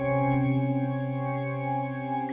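Two sustained synthetic tones sounding together at a 17:8 frequency ratio, a steady dissonant, beating drone that holds evenly for about two seconds before cutting off.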